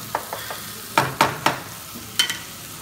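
Meat lightly sautéed in a pan for saç tava, with a few sharp, close scrapes and stirring clatters over a faint sizzle, loud in short bursts with quiet gaps between.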